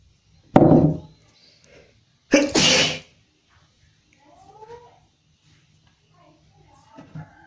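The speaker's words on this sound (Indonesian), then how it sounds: "tadi bersin" A sneeze bursts out sharply twice in a quiet room, each a short loud blast with a gap between, followed by faint scattered sounds.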